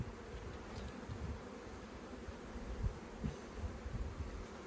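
Honey bees buzzing around an open hive frame heavy with pollen, from a colony headed by an ordinary dark Carniolan queen; a faint, continuous, close drone with no speech.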